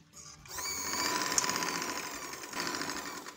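A sewing machine stitches the hem of capri trousers in one brief, steady, close-up run that starts abruptly and keeps a fast, even whirr.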